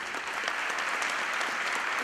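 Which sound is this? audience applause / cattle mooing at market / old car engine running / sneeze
audience applause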